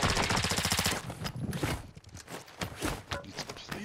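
Rapid automatic gunfire in a Call of Duty game, a dense burst of shots for about a second followed by scattered single shots and impacts amid game noise.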